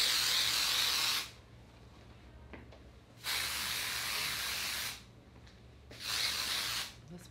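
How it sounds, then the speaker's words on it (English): Three long sprays of texturizing hair spray hiss loudly up close, each a second or two, separated by short quiet pauses. "I like to dig my hands in, lift, and spray."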